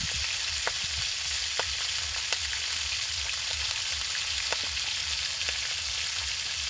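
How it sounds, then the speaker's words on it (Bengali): Whole garam masala and cumin seeds sizzle in hot oil in a kadai, a steady close hiss with scattered sharp crackles and pops throughout and no voices. "কড়ার মধ্যে দিয়ে দিয়েছি তেল। তেলে দিচ্ছি গোটা গরম মশলা, গোটা জিরে,"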